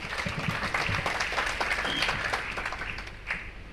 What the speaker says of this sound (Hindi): तो एक बार तालियां जर्नैल सर की।